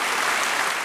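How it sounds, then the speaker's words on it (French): Applause rises for Barbie and her dog after their walk across the stage at a dog show: a short, dense, steady burst of clapping with no voices. "Et c'est un tonnerre d'applaudissements."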